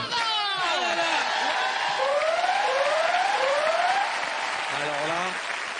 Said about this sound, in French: quand la sirène retentit